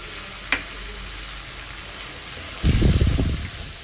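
Ginger garlic paste and crushed chillies hit hot oil in a wok, a sudden loud sizzle after a brief clink, close and alone without talk.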